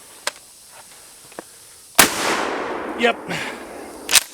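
A single sharp, loud shotgun blast goes off midway and booms away into the surroundings, following a few small clicks of handling; someone speaks briefly.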